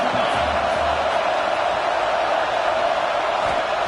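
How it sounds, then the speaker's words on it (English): A large crowd at an American football game produces a constant, loud roar of cheering and noise with no clear breaks, as in a packed stadium. "This crowd bringing the energy and noise early."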